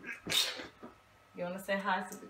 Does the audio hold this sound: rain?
no